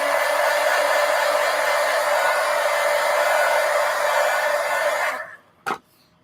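A hair dryer blows steadily and loudly on paper pages to dry them, a dense whooshing roar that runs continuously, then cuts off abruptly and is followed by a single short click.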